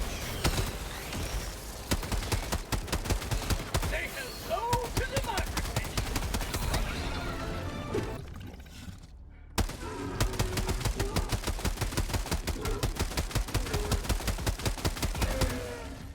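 AR-2 Coyote assault rifle fired in a video game: rapid, evenly spaced automatic bursts crackle loud and close, pausing briefly partway through before the steady rattling gunfire resumes to the end.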